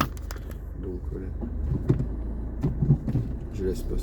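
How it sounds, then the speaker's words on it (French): A car passes along a town-centre street in Bernay, Normandy, a low, soft rumble that swells and fades under someone talking nearby. "Je laisse passer la voiture."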